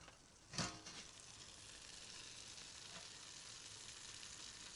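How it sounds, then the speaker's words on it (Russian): Meat wrapped in foil cooks in a pot and gives off a steady, soft hiss and sizzle, with a sharp crackle or lid clatter near the start and faint pops later. "Слышно, как шкварчит."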